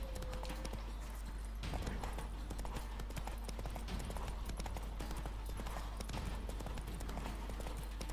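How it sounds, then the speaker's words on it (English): A horse's hooves clip-clop steadily at a trotting pace while riding in The Witcher 3: Wild Hunt on Xbox One, the footfalls quick and even over a constant low hum of game audio. "voy en caballo"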